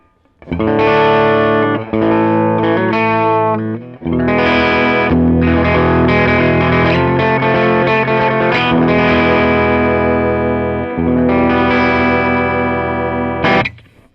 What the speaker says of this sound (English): this is what my SG sounds like from that cranked Fender Twin sound from earlier.